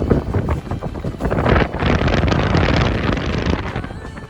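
Strong mountain wind buffets a phone microphone in loud, rumbling gusts that swell and roar without pause across a May hike on Monte Campomolon.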